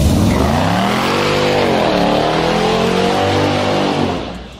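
Mercedes E55 engine accelerating hard, a loud rising roar with sweeping harmonics climbing through the revs, then easing off and fading at the end.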